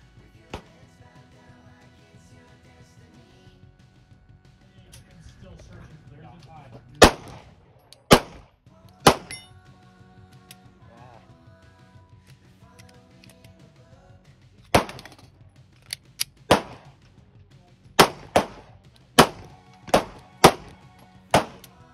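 Pistol gunshots from a Shadow Systems MR920 and a Glock 19 firing Sterling ammunition: about a dozen sharp, loud cracks, scattered singly early on and then in a quick rhythmic string near the end, over quiet background noise.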